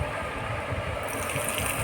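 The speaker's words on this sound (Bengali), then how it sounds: "আমি এবার চাটনিতে তরকাটা ঢেলে দেব।" Hot tadka tempering poured into a chutney for idli gives a steady, close sizzling crackle with a bright hiss that brightens partway through and continues throughout.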